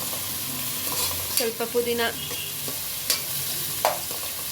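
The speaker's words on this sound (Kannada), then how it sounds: "ಪುದೀನ ಜೊತೆಗೆ ಈರುಳ್ಳಿ ಬ್ರೌನ್ ಆಗುತ್ತೆ." Onions and mint frying in a pan, steady sizzle with intermittent scraping and stirring clatter, close and alone apart from a brief spoken word.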